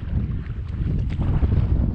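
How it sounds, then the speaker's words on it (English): Strong wind buffeting on a lake during largemouth bass fishing from a boat in Idaho, a steady low rumble of gusts against the microphone with no talk. "let this wind blow out because it is blowing"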